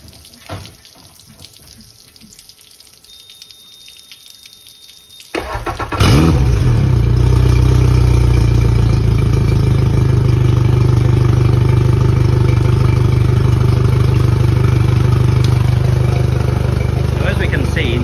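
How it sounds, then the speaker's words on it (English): A Suzuki outboard motor idles loudly in neutral while being flushed through a garden hose attachment, starting after quieter handling noises and then holding a steady rumble with running water. "we're also going to go and turn on the motor and leave it sitting in neutral,"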